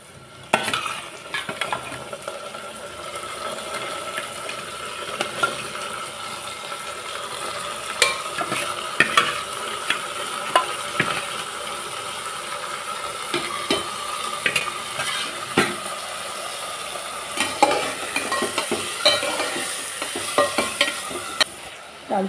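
Rice, lentils and vegetables with grated ginger, onion and garlic stirred and fried together for khichuri, a steady sizzle broken by repeated scrapes and clinks of a spoon against the pan.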